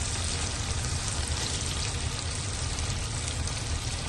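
Ground tomato, green chili and ginger-garlic paste dropped into onions frying in a pan, giving a steady loud sizzle with constant crackle throughout, no talking.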